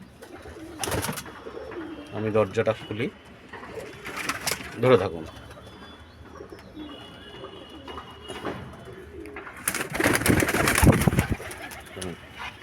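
Two domestic pigeons coo close by after being let out of their coop, soft repeated throaty calls in short bursts between spells of someone talking nearby.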